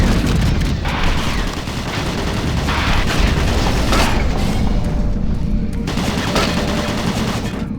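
Automated turret guns firing in DOOM 3 BFG Edition, a steady, dense barrage of rapid gunfire and booming impacts sustained throughout with no pauses.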